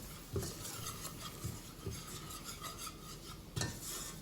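A spoon scrapes and knocks around a pot as flour is stirred for a béchamel white sauce, a continuous rubbing scrape with a few clinks, close and steady.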